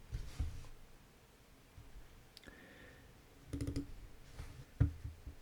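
Typing on a computer keyboard comes through as a few faint, scattered clicks and taps separated by pauses, including a short burst of rapid keystrokes near the end.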